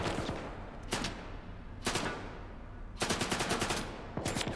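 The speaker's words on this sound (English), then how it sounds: "the NPCs are much better shots when they're shooting at me than when they're shooting at each other" Computer-controlled characters fire guns in the video game S.T.A.L.K.E.R. 2: loud bursts of rapid automatic fire crack out in several clusters, separated by brief gaps of ambient game noise.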